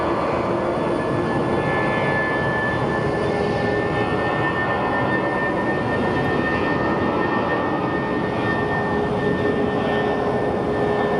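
Steady jet roar from a Spirit Airlines airliner bound for Las Vegas at Phoenix Sky Harbor Airport, loud and unbroken, with a thin high whine running through the dense rumble and no talking.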